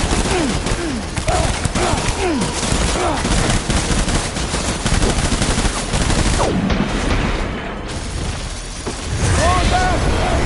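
Dense, sustained gunfire from a battle in the video game Death Stranding, with rapid overlapping bursts and shots filling the scene almost continuously, plus shouted voices mixed in and a brief lull near the end.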